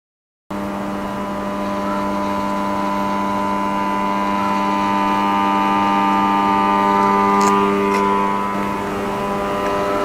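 An AC unit's compressor, rated 1.5 and drawing 22 amps, starts up and then runs with a loud, steady electrical hum and drone that holds for about ten seconds.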